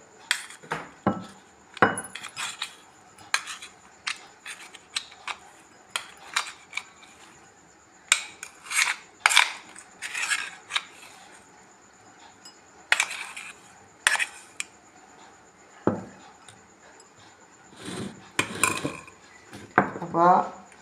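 Bowls, spoons and utensils clatter as ground curry leaf chammanthi powder is tipped into a dish in a home kitchen, a string of sharp metallic clinks and knocks in irregular bursts, close and fairly clear with no talk.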